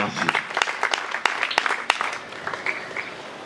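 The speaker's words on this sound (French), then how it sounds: "Pendant qu'elle s'élève, je vous prie de l'acclamer fortement." Applause from an audience at a political conference-debate rises for the vice-president as she stands, a spread of clapping with a few sharp individual claps and some crowd voices mixed in.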